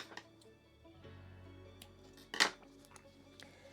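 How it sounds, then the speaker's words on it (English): Scissors snip through crochet yarn in one quick, close, crisp cut, following faint handling clicks in an otherwise quiet room. "and then I cut my yarn."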